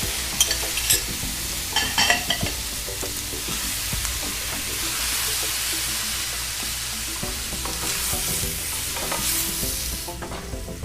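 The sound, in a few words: scallops and chopped tomatoes frying in pan with onions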